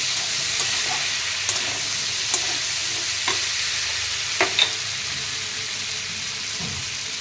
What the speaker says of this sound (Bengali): এবার আলুর সাথে সব কিছু ভালো করে কষিয়ে নেব বন্ধুরা।